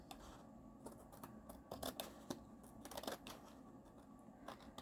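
Faint scissors snip through paper edges in small, irregular clicks and rustles, close but quiet, with no talking.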